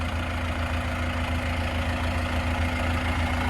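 A tractor's diesel engine idles steadily with a low, rumbling drone and a constant hum, close by and unchanging throughout.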